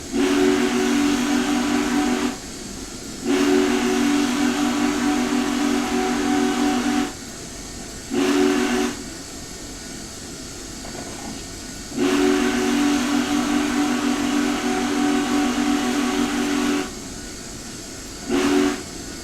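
Union Pacific 844 steam locomotive whistle blowing loud and close in a series of long and short blasts, with breathy hiss and a low rumble filling the gaps between them.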